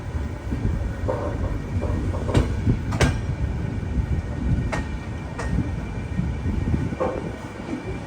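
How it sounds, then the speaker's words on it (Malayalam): An Intercity Express rolls into Jamnagar station with a low rumble of wheels and carriages, broken by sharp metallic clanks and rail clicks at irregular intervals, close by and fairly loud. "ഞങ്ങളുടെ വണ്ടി വന്നത് 3-ാം നമ്പർ പ്ലാറ്റ്ഫോമിലാണ്."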